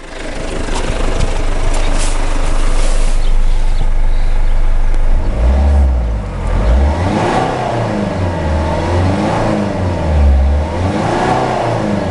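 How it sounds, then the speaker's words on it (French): The diesel engine of a Citroën C2 HDi runs during a home decarbonisation. A steady close rumble is followed by repeated bursts of revving that rise and fall several times. "On va donner quelques coups de gaz."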